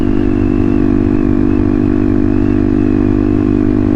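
Benelli motorcycle engine running while the bike is ridden, a loud, steady low drone with a strong harmonic hum and constant pitch, close up and without talk.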